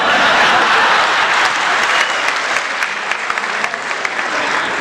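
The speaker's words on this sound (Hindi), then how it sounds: "आदरणीय सीता जी आप भी ताली बजाओ।" Loud, steady applause from a crowd, continuous clapping throughout with no pauses.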